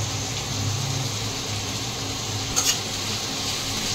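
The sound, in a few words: onions frying and stirred in oil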